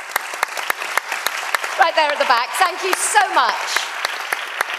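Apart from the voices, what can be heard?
conference audience applause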